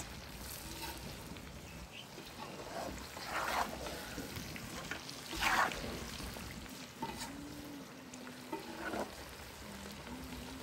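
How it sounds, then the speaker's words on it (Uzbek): Potatoes fry in a kazan over an open fire for kazan kebab, a steady crackling sizzle punctuated by several louder stirring splashes, with faint tonal background sounds. "Endi olovni balandlatib, kartoshkani yaxshilab chiroyli qizarguncha qovurib olamiz."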